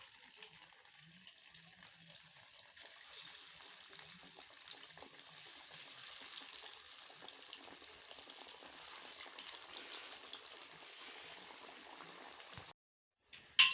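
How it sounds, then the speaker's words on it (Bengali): Bread pakora made with wheat flour and potato frying in hot oil, a faint continuous bubbling sizzle that grows slightly stronger midway, then cuts out abruptly with a brief clatter at the end. "এখন আমি তুলে নেব বাকিগুলো একইভাবে ভেজে নেবো"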